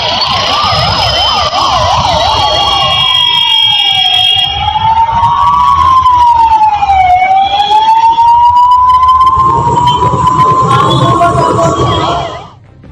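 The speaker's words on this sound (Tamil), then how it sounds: "ஆம்புலன்ஸ் உள்ளிட்ட வாகனங்களும் நெரிசலில் சிக்கிக் கொண்டன." An ambulance siren wails and yelps loud and close in a rain-soaked Chennai traffic jam, its pitch sweeping up and down continuously, with traffic noise beneath.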